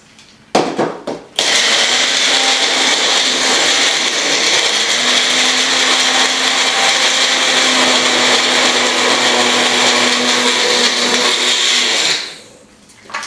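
A food processor grinds nuts into vegan taco meat, starting with a few short pulses and then running loud and steady for about ten seconds before spinning down, no talking.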